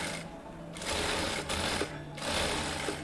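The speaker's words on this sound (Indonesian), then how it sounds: "kita lanjutkan menjahit." A sewing machine stitching a shirt collar, running in steady whirring bursts separated by short pauses, close and clear with no talking.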